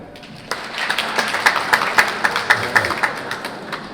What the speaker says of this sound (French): Applaudissez si vous parlez français,